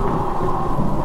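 Heavy rain pours down with a rumble of thunder, forming a loud, dense, continuous roar with no one talking.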